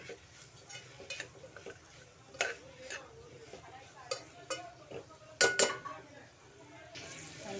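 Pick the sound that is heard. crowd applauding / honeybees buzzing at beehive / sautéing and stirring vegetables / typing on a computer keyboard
sautéing and stirring vegetables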